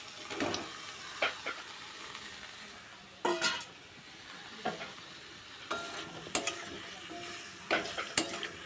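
Boiled drumsticks and potatoes are tipped into masala in a pan and stirred, a quiet sizzle broken by intermittent scraping and clinks of the spoon against the pan.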